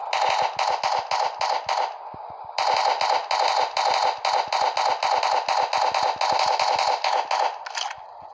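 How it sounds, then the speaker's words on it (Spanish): Rapid bursts of machine-gun fire from the Prison Life video game rattle in fast, even strings with a short pause near the start, loud and close, with no voices. "Vale, este suena así la ametralladora,"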